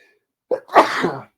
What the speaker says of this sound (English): I'm going to sneeze in a moment